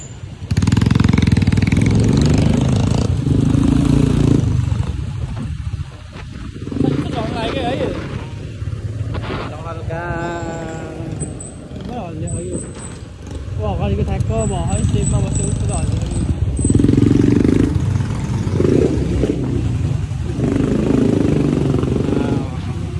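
A motorcycle engine sputters and labours loudly and unevenly on a road in Pokhara, Nepal, with voices talking over it.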